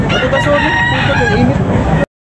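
A rooster crows loudly and close by at a chicken market in Tabunok where stag roosters are sold, one long crow lasting about two seconds before cutting off abruptly.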